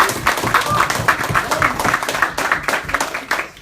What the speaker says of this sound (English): Give a huge round of applause for Toastmaster